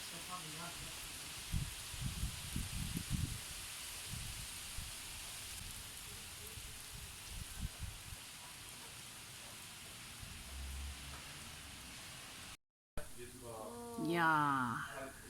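Outdoor rain falls as a steady hiss with low rumbling thuds early on, continuing beneath a voice speaking near the end.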